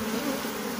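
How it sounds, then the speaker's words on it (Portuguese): Honeybees (Apis) are poured from a gourd bait trap into a hive box, filling the moment with a dense, steady, close swarm buzz that holds its drone without a break. "Despejar as abelhas que estão dentro da caixa."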